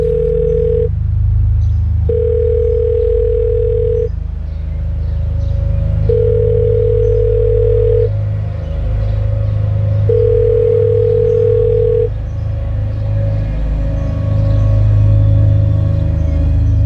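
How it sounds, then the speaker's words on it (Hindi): A phone rings in a repeating pattern, tones sounding for about two seconds with pauses between, over a steady low hum, no voices. "रिंग बज रही है पर पता नहीं कहाँ पे रख दिया फोन"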